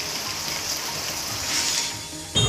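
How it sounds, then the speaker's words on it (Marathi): Unseasonal rain driven by strong wind in the Khopoli area of Raigad, a broad steady wash of falling water that swells a little midway, ending in a sudden louder burst of noise. "रायगडच्या खोपोली परिसरात अवकाळी पाऊस बरसलाय. जोरदार वाऱ्यासह पावसानं हजेरी लावली."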